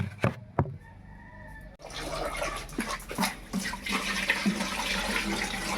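Water from a hose pipe pours into an air cooler, a steady rushing and splashing flow that starts after a few sharp knocks and continues loudly to the end.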